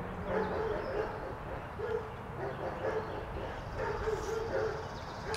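Several dogs bark and yip repeatedly in uneven bursts, somewhat distant, over a steady background murmur.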